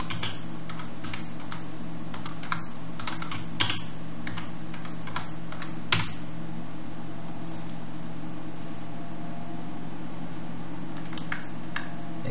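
Fingers type a terminal command on a computer keyboard in short bursts of clicky keystrokes, close up over a steady fan hum, with a few pauses between bursts.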